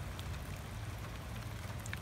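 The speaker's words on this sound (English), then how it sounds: "Oh, starting to rain." Light rain begins falling outdoors during a roadside tire plug repair: a faint, steady hiss of drops with a few scattered soft ticks against a low background rumble.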